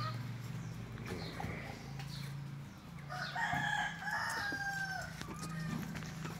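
A rooster crows loudly in one long drawn-out call, with clucking hens and faint murmured voices in the background.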